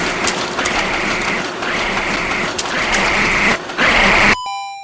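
A rotating fan obstacle in the platform video game Super Liam gives off a steady, rhythmic mechanical ratcheting tick, followed by a bright chime at the very end.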